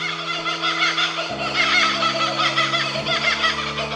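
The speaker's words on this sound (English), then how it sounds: "The Australian brush turkey, he's off, geez" An Australian brush turkey calls outdoors in bushland, its fowl-like vocalisations rising and chattering over a steady low hum from nearby cookers for about four seconds, fairly close and continuous.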